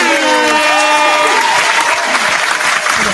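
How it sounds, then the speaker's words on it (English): Audience applause fills the room with steady, dense clapping at close range, sustained throughout with a faint voice or cheer over it at the start. "But we gotta clap it up."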